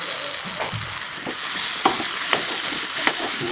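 Avaram flowers sautéing with salt in a pan give a steady close sizzle and frying hiss, with a few sharp stirring clinks scattered through.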